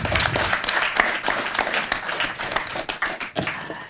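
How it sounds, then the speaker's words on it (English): An audience applauds scholarship winners at a Chevening Scholarship event hosted with the UK embassy in Mali, a loud burst of many hands clapping that tapers and thins toward the end. "Can we clap for the winners?"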